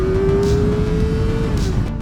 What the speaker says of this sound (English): it's just the scream of the engine